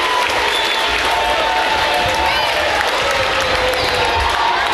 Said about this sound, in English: the crowd here is irate on this side